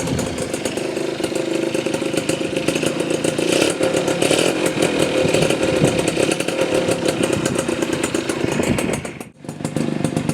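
A Suzuki RC 100 motorcycle with a racing exhaust runs loud and raspy with a buzzy, crackling exhaust tone, holding steady before a brief cut near the end.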